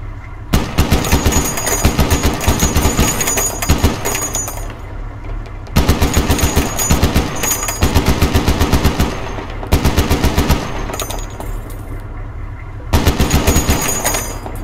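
Machine gun fire in the video game ArmA comes as four loud, sustained rapid-fire bursts separated by short pauses, close and dominant with no talk.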